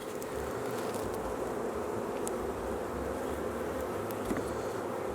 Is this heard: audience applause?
no